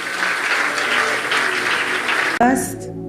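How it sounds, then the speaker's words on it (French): A church audience claps and cheers loudly and steadily to welcome a visiting prophet's delegation, a dense continuous applause that cuts off abruptly near the end, followed by a brief voice. "on peut les apprécier, les acclamer très fort"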